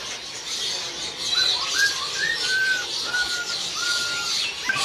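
Caged birds at a bird kiosk, among them white zebra doves, give a run of short whistled chirps over a constant bed of background hiss and chatter.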